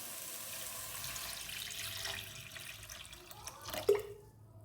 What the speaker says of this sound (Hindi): 4 कप पानी डाल दिया मैंने